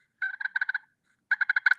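Two short bursts of soft, rolling hen purrs come from a turkey call, each a quick chain of fluttering notes separated by a brief pause, close and clean with no talk.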